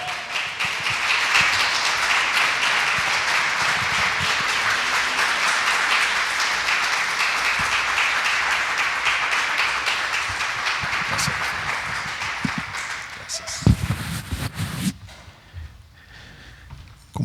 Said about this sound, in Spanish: Un aplauso al Señor, hermanos.